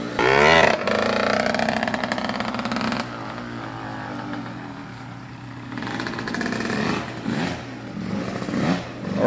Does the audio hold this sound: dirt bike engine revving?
yes